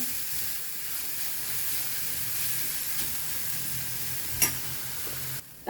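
Onions fry gently in oil over a low flame for a green peas curry, a soft continuous sizzle with faint stirring and a sharp clatter near the end, no talking.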